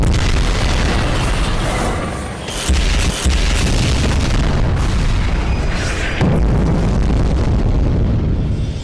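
Heavy gunfire and explosions boom in a video game, a dense, loud, continuous barrage with a few sharper blasts standing out, and no talking.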